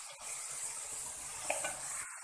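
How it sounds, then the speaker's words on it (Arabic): Onion and chicken sizzle steadily in a hot pan at home, a dense continuous frying hiss with a small clink partway through, alone without talk. "نقلي البصل مليح حتى يذبل مليح، من بعد نضيف الدجاج ونقليه مليح مع الدجاج هذاك"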